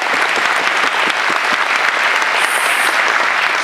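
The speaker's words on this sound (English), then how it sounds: "Applaud you for that." A large conference audience at an Out & Equal event breaks into loud, sustained applause, dense and continuous clapping that fills the hall from start to finish.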